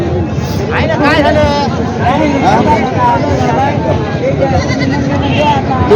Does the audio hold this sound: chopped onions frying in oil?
no